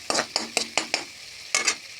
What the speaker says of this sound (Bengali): দিয়ে নাড়াচাড়া করে মশলা ভাজিয়ে নেব